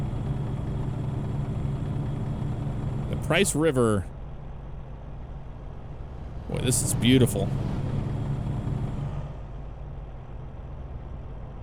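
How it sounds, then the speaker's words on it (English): Cars and trucks pass on a snowy road in American Truck Simulator, two distinct whooshing drive-bys over a steady in-cab engine drone, while someone talks over the road noise. "I love the sound of the cars and trucks going by."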